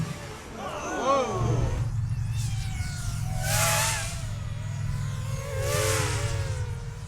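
Racing drones fly a race lap in a four-pilot heat, their motors whining in rising and falling sweeps as they pass, layered over a steady low rumble of crowd noise.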